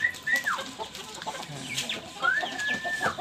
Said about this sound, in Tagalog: Ayan yung mga manok natin.